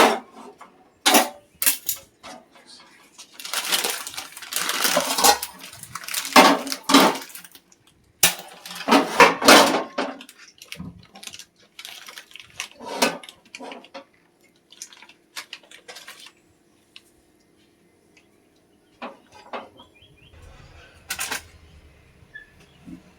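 Bowls and pans set down in a home kitchen while preparing fish curry, with scattered clinks, knocks and clatters close by, broken by quiet gaps and ending in sparse light taps.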